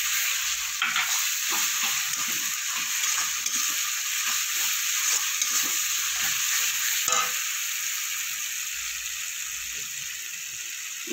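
Green chili paste hits hot oil in a pan while rui posto fish curry is cooked, giving a loud, constant sizzle with a spatula stirring and scraping rhythmically and close by, and no voices.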